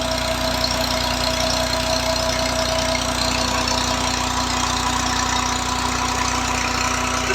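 An old-model Massey 240 tractor engine runs steadily at idle beside a 6-inch water turbine, with a continuous loud rumble and an even, knocking throb that holds unchanged throughout.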